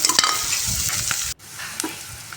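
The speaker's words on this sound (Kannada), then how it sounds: "ಹಾಕಿ ಅದನ್ನು 2 ನಿಮಿಷ ಫ್ರೈ ಮಾಡ್ಕೊಳ್ಳೋಣ" Ginger garlic paste frying with onions in a pan, a steady bright sizzle with a few scraping stirs, briefly cut off partway before the sizzle resumes, close and fairly loud.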